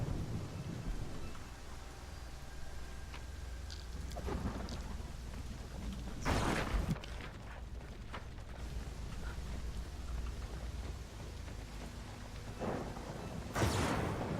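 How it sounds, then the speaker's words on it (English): Steady rain hisses through a Pathfinder Kingmaker game scene, with moderately loud thunder cracks rolling in near the middle and again near the end, no voices. "It's raining outside."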